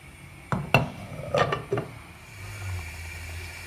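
A pot of peeled potatoes is set down on a stovetop with a few close metallic clunks and clinks in quick succession, followed by a low steady hum of the burner.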